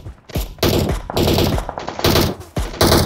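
Automatic gunfire in the PUBG Mobile video game: loud, close bursts of rapid shots, about five of them separated by short gaps, with no voice over them.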